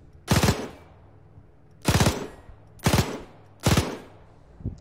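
Four loud, close bursts of machine gun fire in a D-Day airborne combat video game, each a short rattling volley spaced about a second apart, followed by a fainter fifth shot.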